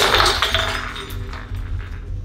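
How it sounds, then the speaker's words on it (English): A Halloween cauldron door hanger with a bathing skeleton crashes down and its glass ornaments shatter, a loud burst of breaking glass followed by scattered clinks and tinkling fragments settling. "Unfortunately, a lot of the ornaments shattered."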